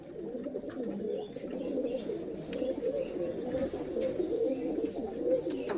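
Andhra pigeons, a new adult pair, coo steadily and close by in a continuous layered murmur of overlapping low calls, with no talk over them.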